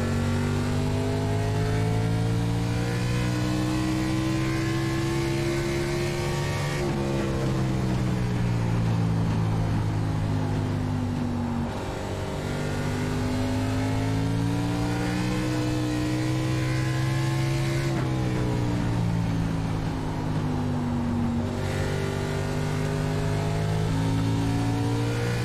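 A race car engine in a racing video game revs steadily and loudly, pitch climbing and dropping through upshifts and braking for corners, running alone without talk.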